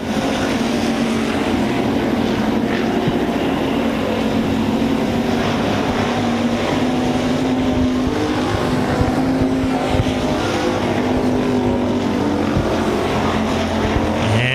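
IMCA Hobby Stock race cars run a heat at RPM Speedway, their engines droning loudly and continuously in a close pack, with wind buffeting the microphone.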